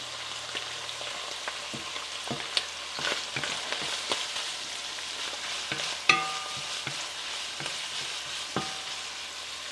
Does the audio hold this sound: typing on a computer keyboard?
no